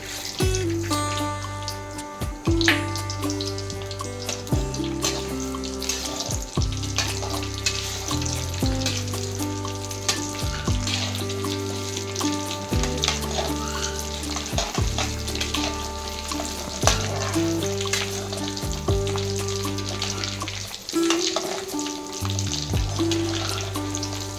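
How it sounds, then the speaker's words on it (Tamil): Mustard seeds and urad dal sputtering in about 200 ml of hot oil for a Tamil tomato pickle, a continuous dense crackling sizzle up close, with a steady tonal hum beneath and no talking. "இப்போ கடுகு உளுத்தம்பருப்பு போட்டுக்கலாம்"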